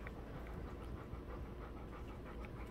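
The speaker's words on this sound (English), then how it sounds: "Panting." An old dog pants in a steady, rapid, breathy rhythm, close by and fairly quiet, continuing throughout with no voices.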